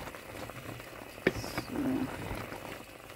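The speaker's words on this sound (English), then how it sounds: "So now our meat has come up to a boil" Meat for a rich Nigerian Sunday stew bubbles in a pot at a boil, a low steady simmer with soft popping close by, briefly under a single spoken word.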